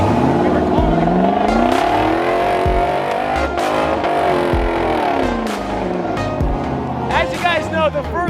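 A car spinning donuts beside a tree, the engine revving hard in rising and falling sweeps, with tyre squeal and loud continuous roar throughout, close and dominant, with people's voices mixed in.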